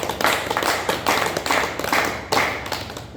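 An audience clapping in bursts during a talk in Hindi, a series of loud, close rounds of hand claps with brief pauses between them.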